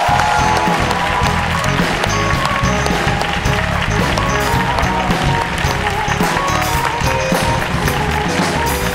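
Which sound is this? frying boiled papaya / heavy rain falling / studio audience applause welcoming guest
studio audience applause welcoming guest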